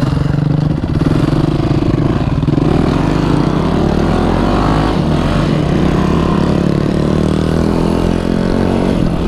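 A motorcycle engine roars loud and close during wheelies on a back road, holding high revs with small rises and dips and no break.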